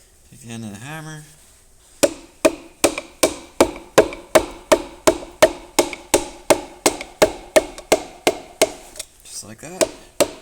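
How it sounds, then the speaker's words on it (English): A hammer end taps repeatedly on a piston inside a Ford 6000 Commander tractor engine, about twenty sharp, evenly spaced metallic knocks, close and loud, with brief talking before and after. "Take the end of the hammer."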